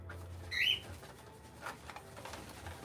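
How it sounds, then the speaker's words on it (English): Pigeons fluttering and cooing in flight, a short close burst of wing and call sounds over a quiet indoor background. "All the birds are flying now."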